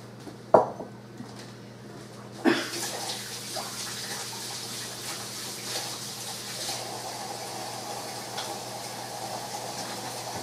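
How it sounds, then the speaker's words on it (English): A kitchen tap runs steadily while greasy hands are rinsed under it. The water starts with a couple of knocks and splashes, then settles into a continuous, fairly quiet, close-up hiss and patter. "give my hands a quick rinse"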